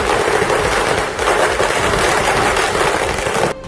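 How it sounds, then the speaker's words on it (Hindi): Loud, dense fireworks crackle at a Congress party election victory celebration in Puducherry, a continuous barrage of rapid pops and bangs that cuts off abruptly at the end. "जीत के लिए आतिशबाजी पुदुचेरी में भी हुई"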